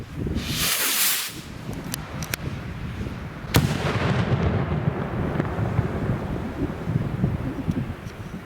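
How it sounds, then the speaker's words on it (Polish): A single loud fireball-type firecracker bang bursts near the start, followed by a sharp crack and a long rumbling echo under steady wind noise, outdoors in cold weather. "Także leci fireball hukowy"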